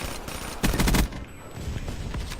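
Gunfire in Call of Duty Black Ops 3 during a Domination match: a loud, rapid burst of automatic shots lasting under half a second, followed by quieter game ambience.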